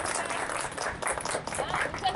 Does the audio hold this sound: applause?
yes